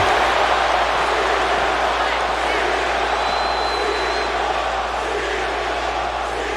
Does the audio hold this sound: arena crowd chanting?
yes